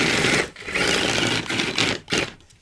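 An FMS FCX24 mini RC crawler truck fitted with Batrazzi tracks runs with a continuous whirring motor whine and gritty track noise, close up, dipping briefly twice.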